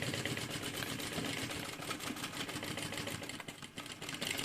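A sewing machine backstitching a bag lining runs in a steady, fast mechanical whirr and needle chatter, close and continuous for the whole stretch with no talk.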